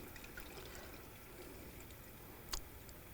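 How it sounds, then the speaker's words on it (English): Coolant, a 50-50 mix, is poured into the reservoir of a 2001-2006 BMW 325xi, a quiet continuous trickle and splash with one brief sharp clink near the end. "Now we're going to add the coolant"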